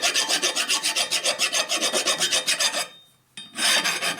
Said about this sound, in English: He knows I'm using a real coarse file here.